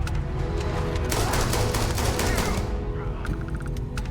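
Rapid ballistic weapon fire from the Starfield video game, dense bursts of punchy shots rattling steadily across the stretch with a few sharper isolated cracks near the end.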